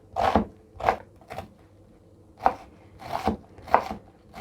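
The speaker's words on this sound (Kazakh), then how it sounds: "оған пиязды өте майдалап турап алатын боламыз" A knife chopping onion finely on a board in a home kitchen, as dough and minced meat are prepared for chebureki, with crisp strokes in short bursts and pauses between them.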